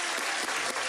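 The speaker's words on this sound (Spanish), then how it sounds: "Démosle ese aplauso fenomenal" A studio audience on a Ecuavisa television program gives a brief burst of dense, loud applause, close and continuous throughout.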